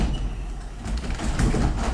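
A door is slid or pushed closed in a home, a short rumbling scrape that builds toward the end, with no voices.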